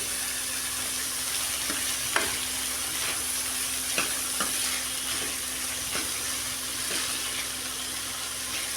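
Finely chopped onions frying in a pan for a cabbage and pea dish, giving a steady close sizzle with occasional light clicks of stirring.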